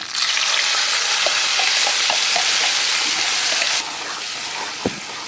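Tomato, onion and garlic sizzle loudly in hot oil while being stirred, a dense continuous frying hiss with scattered scraping stirs, easing slightly toward the end with one sharp clink.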